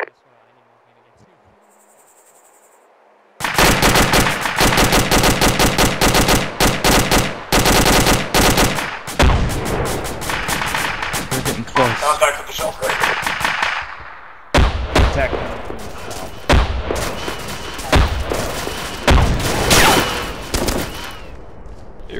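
Loud, close bursts of automatic gunfire in a military shooter video game, rapid rattling volleys after a quiet start, with brief pauses, layered shots and some voice underneath.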